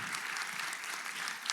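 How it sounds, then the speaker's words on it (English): Audience applause at a graduation ceremony, a dense, steady wash of many hands clapping at moderate distance. "I think that warrants a round of applause"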